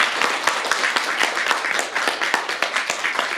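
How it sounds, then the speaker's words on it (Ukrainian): An audience claps steadily at a concert honouring a Ukrainian song ensemble, a dense patter of many hands applauding at close range throughout. "Ваші оплески."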